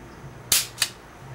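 An unloaded double-action gun is dry-fired during an experiment, producing two quick, sharp cap-like snaps about a third of a second apart against a quiet background.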